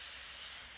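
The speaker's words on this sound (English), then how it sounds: "when you're spraying this, you want to spray to the point of drip" A spray bottle mists powdery mildew treatment onto squash plants, giving a steady, close hiss that runs without a break.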